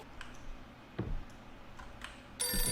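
Telephone ringing inside a horror video game, heard as bursts of bright tones with clicks and ticks between them, the loudest burst arriving at the end of the short clip, with no talking.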